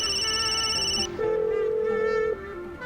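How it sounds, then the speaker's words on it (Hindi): A telephone rings on and on unanswered indoors, a steady electronic ringtone whose pitch shifts partway through, loud and close with no voices. "फोन नहीं उठा रही अपना।"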